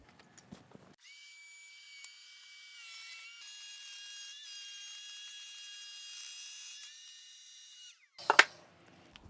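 Router table cutting wood against a fence. A steady, high-pitched motor whine holds for about seven seconds, then stops, followed by a sharp clunk near the end.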